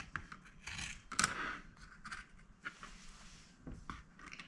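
Scissors snip through quilted fabric in a quiet, close series of crisp cuts and rustles, with irregular blade clicks and soft scraping, faint overall.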